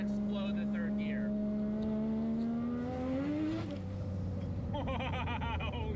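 A Mazda RX-7 rotary engine revs at partial throttle, a loud rising drone whose pitch climbs steadily for a few seconds before easing off, with rattly high overtones and talk over the top.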